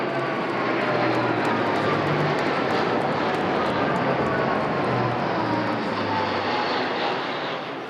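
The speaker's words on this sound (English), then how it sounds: "an A400M Atlas from the Royal Air Force coming down following the line of flight" A Royal Air Force A400M Atlas flying past over London, a loud, steady propeller-engine roar that fills the whole stretch and fades slightly at the end.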